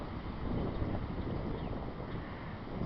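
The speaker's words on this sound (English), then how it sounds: "Here it is." Heavy wind blows steadily throughout, a loud broadband rush with rumbling gusts buffeting the microphone, like open water or a boat deck, with no voices.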